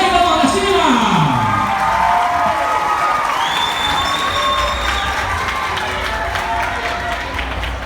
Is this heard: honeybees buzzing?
no